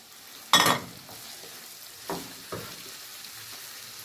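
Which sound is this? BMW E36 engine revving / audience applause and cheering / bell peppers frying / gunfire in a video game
bell peppers frying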